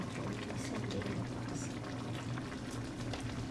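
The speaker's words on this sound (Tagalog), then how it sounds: "So, pakuluan natin ng 5 minutes more." Noodle soup with tofu boiling in a pot, a steady dense bubbling and rolling simmer close to the microphone, continuous and without speech.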